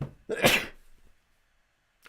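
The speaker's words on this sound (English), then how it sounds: "Sneeze" A single sharp sneeze bursts out close by, preceded by a brief intake of breath, then quiet.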